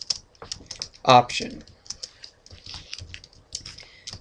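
Quick bursts of computer keyboard clicks come in short runs, close and crisp, with one louder clatter near the start. A voice speaks briefly over the typing.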